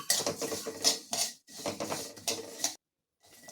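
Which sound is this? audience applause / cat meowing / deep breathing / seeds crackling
seeds crackling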